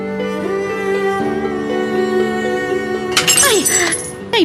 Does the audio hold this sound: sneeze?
no